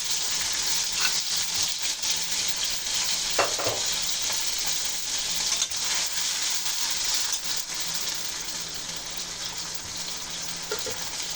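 Ground onion, garlic and ginger paste fries in a pan with a loud, steady sizzle, broken by occasional stirring scrapes, and nobody speaks.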